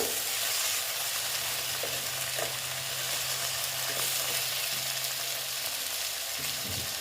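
Eggplant and small tengra fish fry in oil in a pan, giving a steady, loud broadband sizzle throughout, with a few scraping stirs and a low hum underneath.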